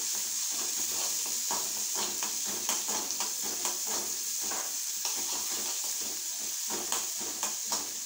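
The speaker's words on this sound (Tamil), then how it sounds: "இப்போ நல்லா வதக்கணும்." Masala paste of ground spice powder and a large tomato, with turmeric, sautéing in a pan, giving a steady close sizzle with repeated scraping and stirring strokes throughout, no voices.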